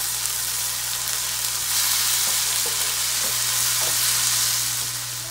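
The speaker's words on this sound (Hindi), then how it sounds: "अब हम मसाले को अच्छी तरह से भून लेंगे।" Masala paste and tomatoes fry in a pan for a masala fish dish, giving a loud, steady sizzle and crackle with a low hum beneath it, without any voices.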